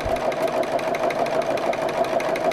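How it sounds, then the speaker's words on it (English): A sewing machine stitches back and forth with variegated thread, a steady, close, rapid mechanical whirring hum with an even rhythmic chatter and no pauses. "Just kind of stitching back and forth and back and forth."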